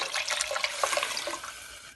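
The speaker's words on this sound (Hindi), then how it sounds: "थोड़ा सा पानी और डालेंगे" Water is poured steadily into a soup pot of Turkish soup on a kitchen stove, a close, continuous splashing gush lasting about two seconds.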